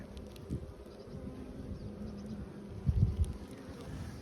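Bees at a hive hum in a low, steady drone close by, with wind rustling through and a brief louder thump of handling near the end.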